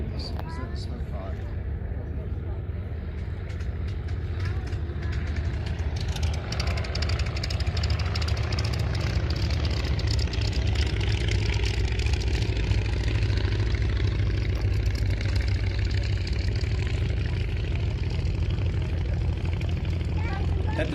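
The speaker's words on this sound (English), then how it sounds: "That distinctive sound of the Polikarpov PO-2, by the way, is a 5-cylinder radial" Polikarpov Po-2 biplane with a five-cylinder Ivchenko M11 radial engine, a steady loud low drone running throughout at an airshow, with crowd and speech faintly mixed in.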